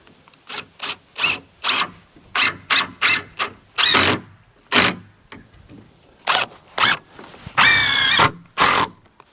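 A power drill drives screws to secure a long 2x4 board run corner to corner during observatory demolition work, in repeated short whirring bursts separated by pauses, with one longer, strained squealing run near the end.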